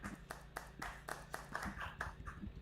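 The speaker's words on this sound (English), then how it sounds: "How do you do that clapping?" Avatar clapping sound effect in a metaverse livestream: a string of sharp, evenly spaced claps, roughly five per second, close and fairly quiet, with no talking over them.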